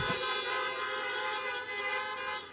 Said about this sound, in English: Thank you for those generous honks.